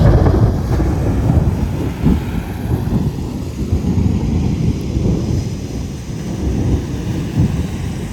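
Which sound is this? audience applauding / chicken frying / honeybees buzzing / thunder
thunder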